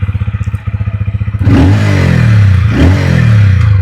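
A TVS Ronin motorcycle's engine thumps with a steady pulsing beat, then revs up and surges loudly while riding, rising twice in pitch under continuous wind and road rumble.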